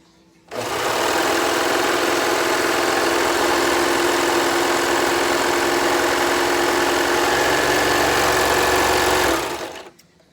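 A serger sewing machine runs steadily for about nine seconds, a loud, even mechanical whir that starts and stops abruptly, close up, with no one talking.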